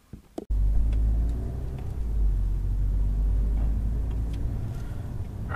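Twin-charged Volkswagen Golf GT climbing a mountain road, its engine a steady low rumble with road noise inside the cabin, building slightly under acceleration after a brief knock at the start.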